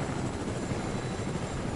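Video game helicopter in flight, a continuous whirring rotor and engine drone, steady and fairly loud throughout the short stretch, with no talking over it.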